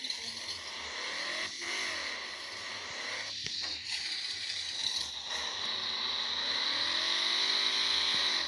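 A Ford Ranger engine revving in Off-Road Outlaws, a steady mechanical drone with rattling and clunks as the truck lurches about, gradually growing louder.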